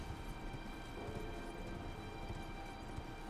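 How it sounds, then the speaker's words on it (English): Horse hoofbeats from riding through tunnels in the video game Elden Ring, a steady, quiet clip-clop running throughout under a soft ambient wash, with no talking. "Ride my horse through the tunnels."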